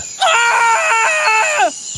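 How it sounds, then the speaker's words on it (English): A single scream in a Treasure Island radio drama, a sustained, warbling high-pitched cry lasting about a second and a half, loud and close over a quiet background. "You mean that scream?"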